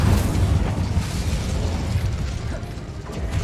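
Incendio fire spell in a Hogwarts Legacy battle: loud, low flame bursts mixed with clanking, mechanical rattles and booms, all rumbling steadily for several seconds.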